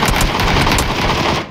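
Rapid automatic gunfire in the battle royale game PUBG on the Sanhok map, a loud, dense burst of shots running steadily for over a second before cutting off.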